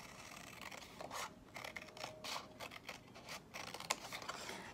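Scissors trim the bottom off a paper craft piece in a quiet room, a series of faint, irregular snipping and rustling cuts over several seconds.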